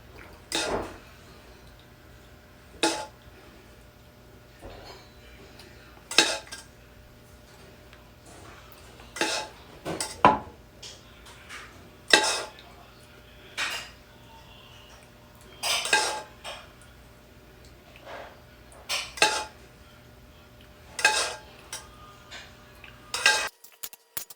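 Sticky bun topping spooned over Rhodes frozen dinner rolls in a pan, heard as sparse close clinks and scrapes of a spoon against the dish at irregular intervals, with quiet pauses between and no talk.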